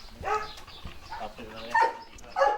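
Several dogs at an animal refuge give short yelping barks and whines in bursts, fairly close, with people talking in between.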